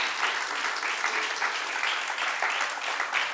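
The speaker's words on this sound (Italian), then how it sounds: "Un grandissimo applauso." An audience applauds at a televised evening show featuring a dance school, with dense, steady clapping close to the microphone, unbroken throughout.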